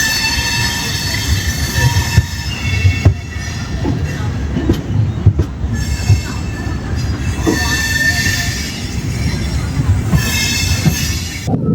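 A Jan Shatabdi Express pulls out of Erode with a steady loud rumble of wheels on rails, rising metallic squeals and intermittent clatter, continuous and close throughout.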